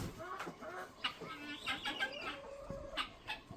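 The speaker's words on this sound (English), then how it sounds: "That is a big chicken." Chickens on a small farm keep up soft, scattered clucks, some near and some farther off, over a faint outdoor background.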